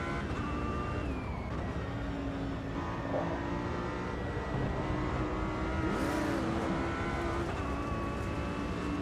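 An Audi R8 GT3 race car laps Kyalami in the Automobilista 2 racing game, its engine droning and shifting pitch steadily and loudly throughout, with no talk over it.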